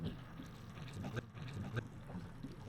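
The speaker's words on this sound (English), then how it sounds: "At this point, the engine is idling in neutral and the boat is drifting." Fishing boat engine idling in neutral while the boat drifts, a faint low steady rumble with light water lapping and soft wind, quiet and continuous with no talk.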